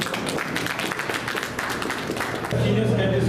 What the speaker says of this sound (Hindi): प्लीज जोरदार तालियों से।